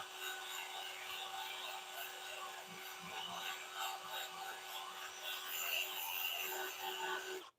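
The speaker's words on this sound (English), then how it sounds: "I need to brush and sand out right there." Sandpaper rubbing against a spinning wooden bowl on a woodturning lathe, a steady abrasive hiss over the faint motor hum that continues evenly before cutting off abruptly at the end.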